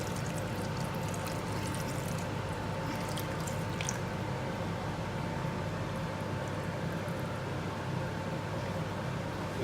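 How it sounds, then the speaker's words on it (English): Water is poured into a simmering chicken korma gravy in a home kitchen, giving a steady, continuous splashing pour that runs at an even level throughout, with no talking over it. "let's add some water here"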